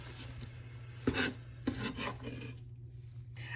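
Crusty French bread loaf torn by hand into a bowl, a few dry rasping rips and crackles, close and fairly quiet against a steady low hum.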